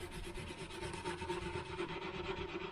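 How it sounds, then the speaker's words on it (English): A fingernail scrapes stubborn grease off a stove top in quick, repeated close strokes, making a steady rasping scratch throughout with no voices. "There is a few spots still that you can use your nail."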